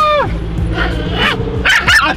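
A dog gives a quick burst of sharp yips and barks, close and loud, with a whimpering whine at the start and people talking around it.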